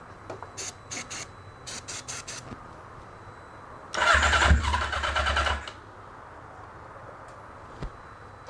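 An engine fired up for the first time cranks in short stuttering bursts, then catches and runs roughly and loudly for under two seconds before cutting out to quiet.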